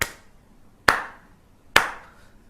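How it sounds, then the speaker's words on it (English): Three single hand claps, sharp and close, evenly spaced under a second apart, each with a brief room decay, in otherwise quiet surroundings. "when you make a clap"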